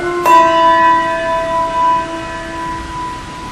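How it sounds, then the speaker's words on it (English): A single handbell is struck once and rings out clearly, its bright tone sustaining and slowly fading over a few seconds during a bell-weaving exercise. "The left bell is being rung with the right hand."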